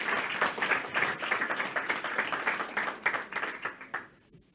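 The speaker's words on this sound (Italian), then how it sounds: "Un applauso, grazie." A political meeting audience applauds in a rhythmic, steady clap that grows slightly together in time before fading out at the end.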